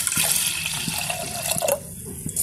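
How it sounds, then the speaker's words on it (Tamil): Water poured into a pressure cooker holding moong dal, a splashing, gurgling stream that runs for a couple of seconds then tapers off, close and fairly clear with no speech. "இதுக்கு தேவையான அளவு தண்ணி ஊற்றிக்கிறேன்."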